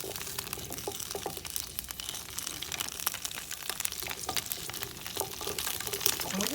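Washed asparagus dropped into hot garlic oil in a pan, crackling and spitting in a dense, continuous sizzle with sharp pops throughout, close and fairly loud, no talking.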